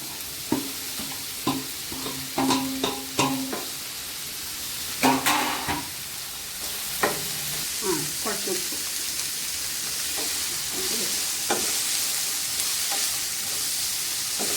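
Onions frying in a pan for Kerala-style beef peralan, with a steady sizzle and hiss beneath clinks and scrapes of stirring, while a voice talks intermittently.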